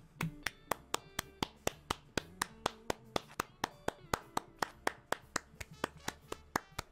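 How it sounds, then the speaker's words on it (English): Clapping in a song in the Uno video game comes as a steady series of sharp, crisp hand claps, about three per second, set over a soft musical backing. "Everybody clap your hands!"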